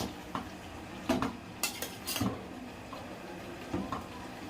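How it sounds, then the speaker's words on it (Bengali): Meat and potato curry being stirred in a pan, with a few scattered clinks and scrapes of a utensil against the metal and a soft sizzle underneath. "আলুটা দিয়ে দিলাম মাংস, এবার দিয়ে ভালো করে কষাচ্ছি"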